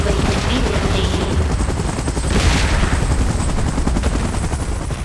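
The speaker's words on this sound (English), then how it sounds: "Chopper in position." A helicopter in the PUBG video game thumps with a loud, dense rotor roar that stays close and steady, mixed with bursts of rapid gunfire.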